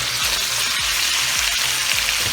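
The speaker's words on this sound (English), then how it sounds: "I'm going to be throwing in my cabbage. I ended up doing into the fat." Cabbage frying in bacon fat in a pan gives a steady, loud sizzle, with soft regular thuds as it is stirred or turned.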